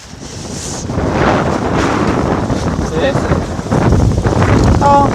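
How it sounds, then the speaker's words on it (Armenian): A strong outdoor wind among rocks buffets the microphone with loud, continuous, roaring gusts, and a voice can be heard faintly under the noise. "Քամի, ինձ մի տանի"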